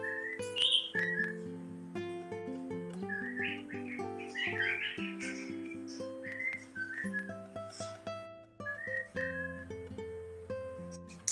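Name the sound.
cockatiel whistling Feliz Navidad, played recording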